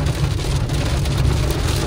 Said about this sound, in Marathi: पाऊसच एवढा पडतो. मुसळधार पाऊस एकदम.